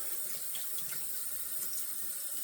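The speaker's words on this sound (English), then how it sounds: "And then I'll run it under the whole knot, the hot water," Hot tap water runs from a faucet under the knot of a shaving brush, a steady close hiss and splash of flowing water, uninterrupted and without voices.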